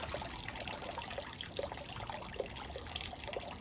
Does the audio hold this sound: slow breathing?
no